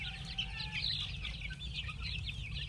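Chickens on a small poultry farm cluck continuously, many birds overlapping in a steady, busy chatter at moderate distance, with no talking.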